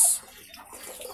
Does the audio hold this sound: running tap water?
yes